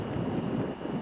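Wind gusts buffet the microphone on an exposed hilltop disc golf course, a steady low rumble with swelling surges and no voices.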